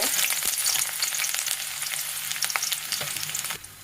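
Steady, loud sizzling of chopped onion frying in hot oil, crackling close by with no voices.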